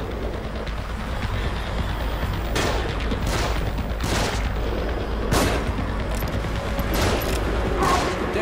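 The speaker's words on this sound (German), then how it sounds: "Deckung, sie schießen." Gunfire in the video game The Evil Within, a loud, continuous battle din with repeated sharp shots and bursts over a rumbling background.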